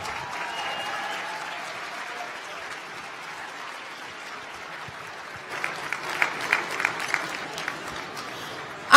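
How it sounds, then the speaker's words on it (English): Applause from a gala dinner audience for a children's chorus, a broad steady clapping that grows livelier with sharper individual claps toward the end, set at a moderate distance in a large room. "let's give a warm round of applause for the Children's Chorus of Washington"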